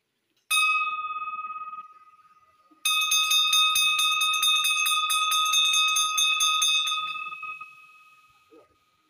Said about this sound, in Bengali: আওয়াজই হলো না ঘন্টাটা এইগুলা বাজে ওখানে